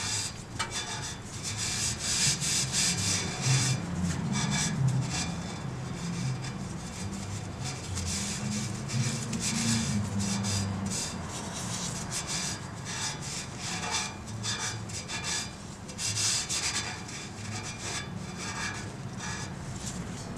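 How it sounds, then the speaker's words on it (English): Rag rubbing and wiping away excess penetrating fluid around the oxygen sensor port of a Toyota Corolla, a continuous close scrubbing and scuffing that carries on for about twenty seconds with no speech. "After the sensor was removed, I wiped down the area with a rag to remove any excess penetrating fluid."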